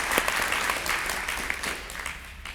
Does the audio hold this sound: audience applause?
yes